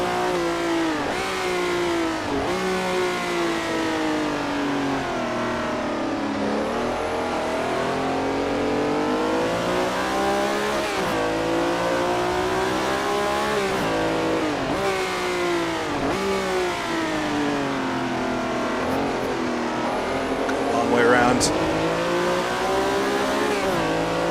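1960s sports race cars in the Assetto Corsa racing game roar continuously, engines rising and falling in pitch through gear changes as several cars run together on a Daytona circuit, with no talk.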